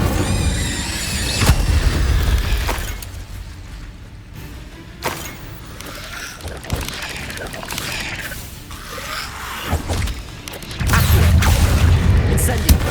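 An Incendio fire spell is cast in the game Hogwarts Legacy, giving a loud whooshing, crackling burst amid booms, squeals and dense combat effects that run continuously through the scene.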